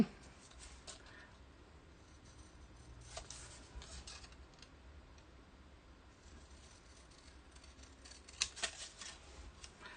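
Scissors cut out a freshly stamped paper image, quiet close snipping in short irregular bursts against a faint background, with a few louder snips near the end.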